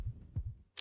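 A deep, muffled heartbeat sound effect from Minecraft, non-directional, thumps twice in quick lub-dub pairs, followed by a short sharp tick at the end.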